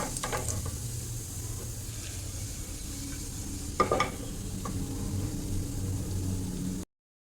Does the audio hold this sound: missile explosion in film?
no